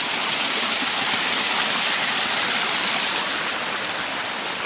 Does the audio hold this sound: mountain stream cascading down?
yes